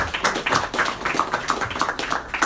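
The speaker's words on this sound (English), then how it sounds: "I think we should give a huge round of applause for His Holiness Bhakti Rasayana Sagar" Applause from a lecture audience for Bhakti Rasayana Sagar Swami during a Bhagavad Gita talk in the USA: a modest, fairly steady patter of hand claps at moderate distance, with no talking over it.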